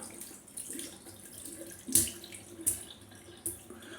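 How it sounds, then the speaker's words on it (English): Water from a bathroom sink tap runs steadily while a shaving item is rinsed beneath it, with a few sharper splashes breaking through the constant flow, close and moderately quiet. "So just give it one more rinse underneath the tap."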